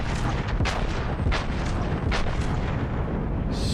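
Nagato battleship main guns firing in World of Warships, deep booming salvos rolling over a constant low rumble of ocean and engine noise, several spaced heavy reports.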